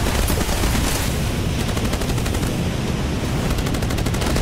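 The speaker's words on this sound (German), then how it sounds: "Das Schießen macht schon Spaß" Rapid, dense machine-gun fire rattles continuously at close range in the naval video game Age of Water, loud and unbroken throughout.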